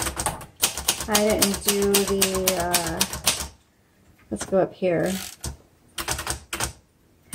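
Keys strike on a 1960s Singer Professional T-62 manual typewriter, a run of sharp, rapid clacks in bursts with short pauses, heard close up while a person talks over much of the typing.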